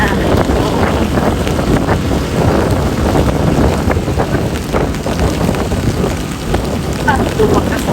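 Very heavy rain pours during a drive, a loud continuous roaring wash mixed with wind buffeting, steady and close throughout.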